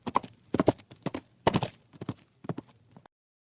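Horse hooves clip-clopping in a palace stable, a run of sharp, close hoof knocks in uneven pairs and clusters, fairly loud, ending in silence.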